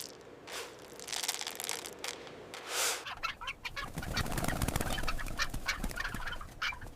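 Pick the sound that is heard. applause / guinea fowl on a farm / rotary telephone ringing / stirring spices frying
guinea fowl on a farm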